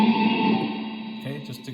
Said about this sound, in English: I want to add a little bit of reverb and a little bit of presence